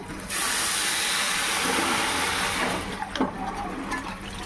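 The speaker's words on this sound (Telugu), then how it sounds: "ఇప్పుడు మనం వాటర్ అయితే వేసేసుకుంటున్నాం దీంట్లోకి" Water poured into a pot of fried rice, one and a half cups per cup of rice, a loud steady rushing splash that runs for a few seconds and then eases into lighter bubbling, with no voices.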